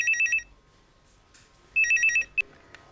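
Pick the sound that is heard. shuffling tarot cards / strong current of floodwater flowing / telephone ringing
telephone ringing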